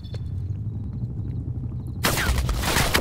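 Gunfire in the Call of Duty Cold War video game, a burst of loud, dense rapid shots erupting suddenly after a stretch of quieter game ambience.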